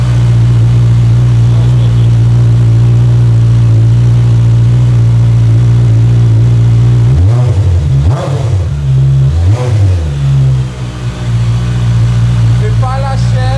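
A QJMOTOR SRK 921 streetfighter with a different exhaust idles loudly and steadily up close on its first start-up, then is revved in a few sharp bursts that rise and fall, with a voice talking over it.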